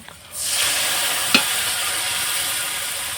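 Cumin and mustard paste hits hot oil in a pan and bursts into loud, steady sizzling that carries on unbroken after a quiet start, with one brief scrape partway through.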